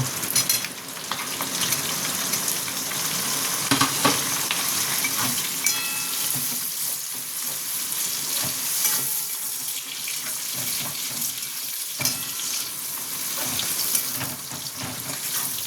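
Capsicum is stir-fried for chili chicken, a busy, continuous sizzle with scraping and stirring clatter from the pan throughout, fairly close and steady.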